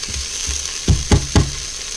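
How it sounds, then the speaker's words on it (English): Mushrooms and parsnips sauté in an Instant Pot, a steady close sizzle broken by three quick dull knocks of a spoon being stirred against the inner pot. "now I'm going to saute this for another minute or so"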